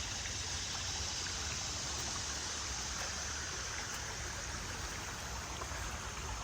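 A rocky creek runs steadily, water rushing and splashing over stones in a constant broadband wash, close and loud, with no voices.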